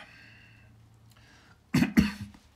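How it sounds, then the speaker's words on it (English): A couple of sharp, close coughs in quick succession after a quiet stretch of low background hum. "Sorry, I had a bit of coughing fit there."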